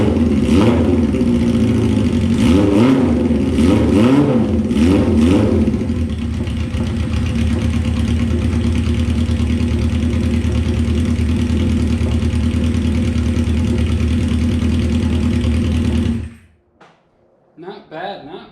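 A Honda CB550 motorcycle engine, recently rebuilt, idles steadily and loud up close for about sixteen seconds, with a few early blips of revving, before it shuts off and a voice is briefly heard.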